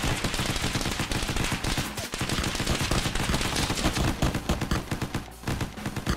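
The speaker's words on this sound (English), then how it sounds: "just keep shooting" Dense, rapid gunfire from shooting at enemies in a video game rattles on without pause, loud and close, with quick overlapping bursts throughout.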